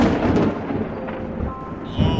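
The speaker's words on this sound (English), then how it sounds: "That thunder sounds real." Thunder rumbles in a strong storm, a loud low roll that fades and then swells again near the end, with a voice faintly mixed in.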